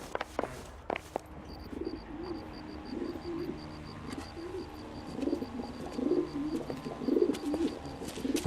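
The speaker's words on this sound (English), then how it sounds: "Drunk and in command of a carrier pigeon" A carrier pigeon coos softly in L.A. Noire, a steady run of low burbling calls over a busy ambient background, with faint clicks and a thin high tone throughout.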